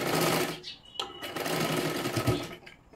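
A sewing machine stitches a boat-neck katori blouse, running in close, loud bursts with brief pauses between runs, a steady mechanical whirring with no talk over it.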